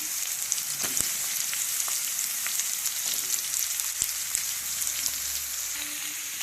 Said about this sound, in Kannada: ಈಗ ನಾನು ಹೀರಿಕಾಯಿ ಸಣ್ಣ ಪೀಸ್ ಮಾಡ್ಕೊಂಡಿದ್ದೆಲ್ಲ ಅವನ್ನ ಅದಕ್ಕೆ ಹಾಕ್ತೇನೆ